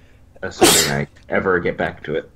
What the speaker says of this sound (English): I heard someone sneeze.